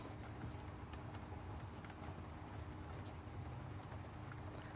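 Rain falls in a Texas garden, a soft, continuous patter of drops on leaves and surfaces with occasional sharper taps and faint bird calls, quiet and even in level, with no voices.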